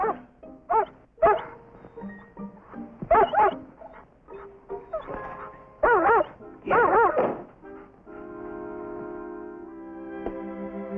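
A dog whimpers and yips in eager, wavering cries, broken by a few short barks and soft thumps. The sound is close and fairly loud, and a steady tonal hum runs beneath the later cries.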